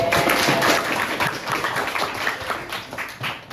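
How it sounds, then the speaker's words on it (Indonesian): Schoolchildren in an Indonesian classroom clap their hands together, a close, loud burst of brisk mixed clapping that carries on, uneven and lively, for a few seconds. "Oke, boleh tepuk tangan dulu."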